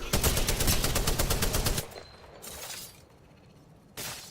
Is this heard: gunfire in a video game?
yes